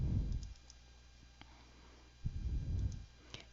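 A few sharp, faint mouse clicks tick out in a quiet room while working in Microsoft Project, spaced irregularly between soft low rumbles.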